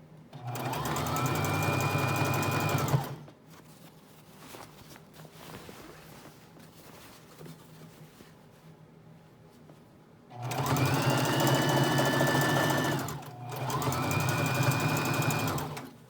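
A sewing machine stitches fringe onto a dress in steady fast runs, a loud burst of about three seconds, a long quiet pause, then two more close runs separated by a brief stop.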